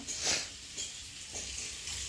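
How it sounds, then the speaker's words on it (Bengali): Drumstick stems fry in a pan for a Bengali chorchori, a quiet, steady sizzle with soft pulses from stirring every half second or so, heard up close with no talking. "আর এখন করছি হচ্ছে ডাটার চচ্চটি ডাটাটা দেখো ভাজা ভাজা হয়ে গেছে"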